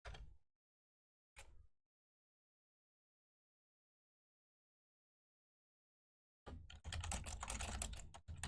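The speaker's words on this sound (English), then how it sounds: "Just typing something up real quick so I don't forget." Computer keyboard typing, first two brief isolated keystroke bursts separated by long silence, then a rapid continuous run of clicks and taps close to the microphone, with no talk.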